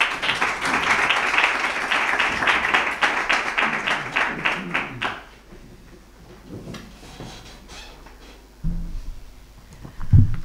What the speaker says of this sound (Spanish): doña Rocío del Mar Castellano, a la cual pido un aplauso, por favor.